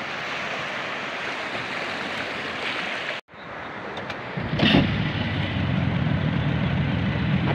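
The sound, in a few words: sea waves near the beach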